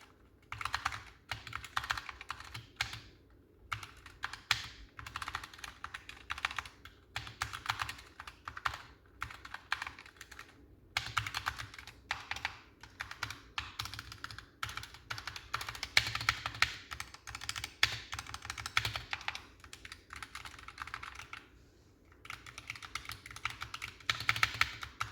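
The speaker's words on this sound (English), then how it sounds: "This first test will be if you were just normally typing on a computer" Razer Huntsman Tournament Edition optical switch keyboard typed on at a normal pace, a steady run of close, crisp key clicks in bursts with brief pauses, no voices.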